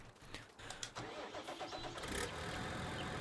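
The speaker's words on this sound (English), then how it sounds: "I'm just running up there for a tractor, and our New Holland's right there." A New Holland tractor engine in Farming Simulator 19 cranks with a few rough bursts and catches, then settles into a steady, loud diesel rumble that keeps running.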